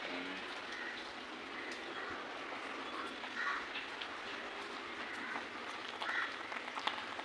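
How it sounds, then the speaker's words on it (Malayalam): Soft, steady rainfall patters in a quiet hiss, with a couple of faint bird chirps breaking through now and then. "മഴയാണ്"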